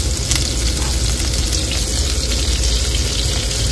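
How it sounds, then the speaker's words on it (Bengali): Food frying steadily in hot oil with salt and turmeric, cooked inside a truck, giving a loud, continuous close sizzle with no talking. "হালকা করে ভেজে নেব"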